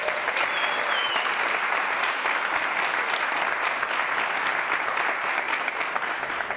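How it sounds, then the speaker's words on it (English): A city council chamber audience gives a sustained round of applause for mock trial world champions, dense even clapping from many hands continuing loudly for several seconds without pause. "Can we give them a big round of applause for that?"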